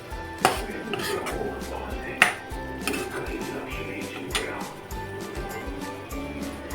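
Metal utensil scraping and clanking in a cooking pan as ginger garlic paste is stirred for pav bhaji, with sharp clinks standing out over a steady sizzle and kitchen clatter, close and moderately loud.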